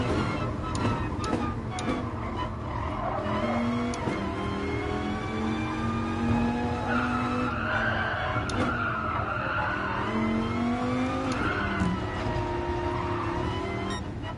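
A car in the Gran Turismo Sport racing game skids off the road during a driving-school event, with repeated tire squeals over a revving engine, fairly quiet overall.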